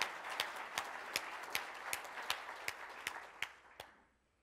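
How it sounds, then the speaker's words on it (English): A Rotary Club audience in Tulsa gives a steady round of applause, with dense clapping and a few sharper individual claps standing out, fading away at the end. "let's give yourselves a round of applause"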